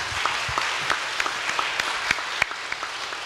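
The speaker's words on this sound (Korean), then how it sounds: "박수 좀 주시죠." Steady applause from a seated audience at a Korean art retrospective panel discussion, many hands clapping densely with a few sharper individual claps standing out, moderately loud and continuous without talk.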